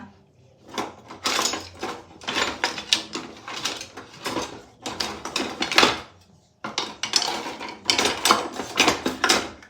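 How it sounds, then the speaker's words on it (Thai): Roasted chilies are pounded in a mortar: repeated sharp, close knocks in irregular bursts, pausing briefly partway through before the pounding resumes. "ทุกคนโขลกพริกที่เราคั่วไว้แล้วนะคะ"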